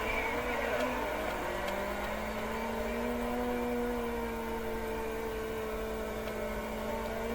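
Sprint cars racing in the World of Outlaws video game during a heat race, a steady, dense engine drone with a slowly rising and falling pitch, continuous and alone.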